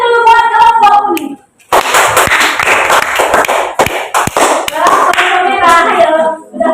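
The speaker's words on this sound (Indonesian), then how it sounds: "Tepuk tangan dulu buat kelompok ini" Classroom students clap together for a group of classmates, a loud burst of quick, uneven hand claps near the microphone, framed before and after by young voices speaking or chanting.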